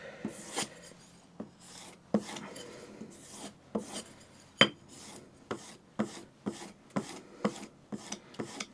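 A hand plane blade is stroked along a strop in a long series of light, evenly spaced swipes, faint and close, each a brief rasping brush with quiet gaps between, with no talking.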